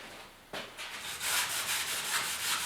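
Hand scuffing of a plastic decklid grill on a Porsche 911 before painting, a close, soft abrasive rubbing that starts after a brief pause and continues in quick back-and-forth strokes, no talk.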